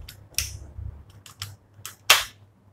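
An air pistol with an exposed hammer, an ASG CZ P09 or Crosman Iceman, is decocked in a few sharp metallic clicks. The loudest snap comes near the end, and the clicks sound close and isolated with no talk.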